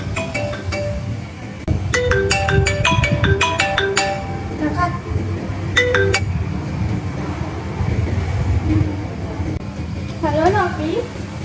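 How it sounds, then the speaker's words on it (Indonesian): A phone call being placed: a quick run of melodic ringing tones rises early on, then fades into a steady rumble of traffic and wind before a brief electronic warble near the end. "Aku mau telepon Yuda aja ah."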